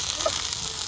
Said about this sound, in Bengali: এখন এই শাকটা আবার তৈলে টালতে হইবে